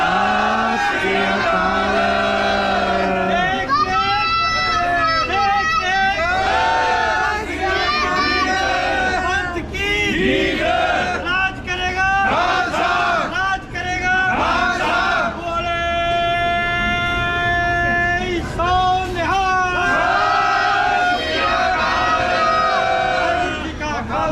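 Crowds of Sikh pilgrims at a train station shout loud, sustained jaikara chants together, a dense, echoing roar of many voices rising and falling continuously.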